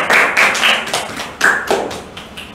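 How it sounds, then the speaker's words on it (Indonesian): Brief applause for a student in a classroom during a teaching practice lesson, a few quick bursts of clapping that fade out within a couple of seconds. "Aplaus buat Mas."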